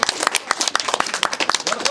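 Short bursts of hand clapping from a church congregation after a child's baptism, sharp irregular claps close by, mixed with some voices.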